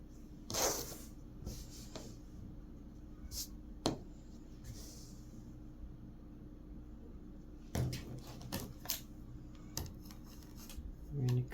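Quilt fabric being cut into blocks during a sewing session: scattered sharp snips and short cutting strokes, with soft rustling and handling of cloth between cuts, close and moderately quiet.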